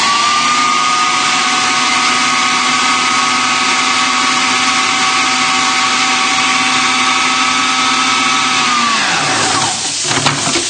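A blender whirs steadily at high speed as it blitzes a mint crust mixture bound with a tablespoon of olive oil, a loud continuous motor drone that holds for about nine seconds before winding down and stopping.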